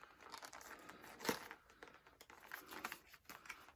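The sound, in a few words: plastic wrapping being opened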